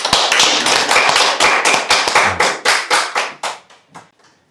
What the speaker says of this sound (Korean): 우리 그 박수 한번 쳐드립시다.